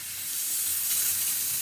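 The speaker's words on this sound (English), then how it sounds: "Nice strong steam." A serviced La Pavoni espresso machine's steam wand lets out a strong, steady, close hiss that swells slightly and holds with no talk.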